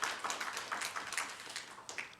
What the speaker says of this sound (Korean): 다 같이 박수로서 여러분 격려해 주시기 바랍니다